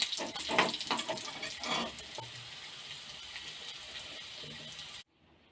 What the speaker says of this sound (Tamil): இதையும் நான் இந்த எண்ணெயில் போட்டு நல்லா வதக்கி எடுத்துக்க போகிறேன்.